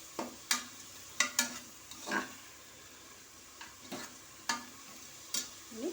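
Onions frying in a pan for a coconut masala rice, with a spoon scraping through them in irregular strokes over a faint sizzle, close and fairly quiet with no voices.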